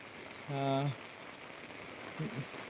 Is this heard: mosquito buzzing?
no